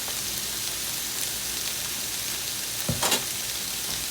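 About a tablespoon of extra virgin olive oil sizzles in a hot pan with a steady, close crackle, and a brief louder spatter comes near the end; no one speaks.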